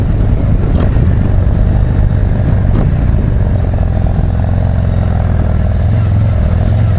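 Screamin' Eagle 135 Road Glide ST motorcycle accelerating, a loud, dense engine roar with heavy wind rumble from on board, steady and continuous throughout.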